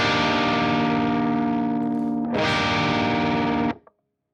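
An electric guitar played through an amp simulator rings out in a sustained distorted chord, then is struck again with a fresh attack and held before cutting off abruptly.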